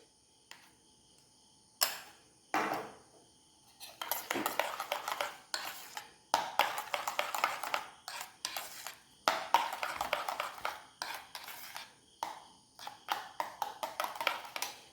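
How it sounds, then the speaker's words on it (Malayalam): Homemade mayonnaise and tomato sauce get mixed in a bowl with a spoon, bursts of rapid clinking and scraping of metal on the dish, close and sharp, with short pauses between rounds of stirring. "അപ്പോൾ കുറച്ച് മയോണൈസ് ആ ടൊമാറ്റോ സോസ് കൂടെ ഒന്ന് മിക്സ് ചെയ്യാം."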